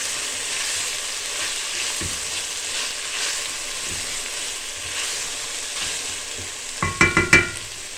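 Tomato paste fries in a pan with a steady, close sizzle, and a few sharp utensil scrapes and clinks come near the end.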